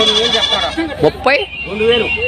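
Goats and kids bleat loudly and close up at a livestock market, several wavering cries overlapping in quick succession, with people talking faintly underneath.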